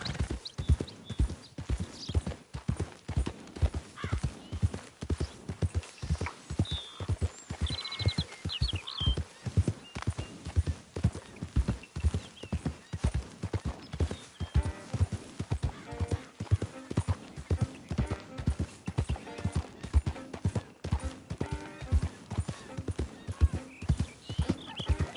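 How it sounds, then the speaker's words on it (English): Horse hooves clip-clop in a steady, continuous rhythm throughout Red Dead Redemption 2 gameplay, with an occasional whinny and some faint talk mixed in. "That's a fine steed."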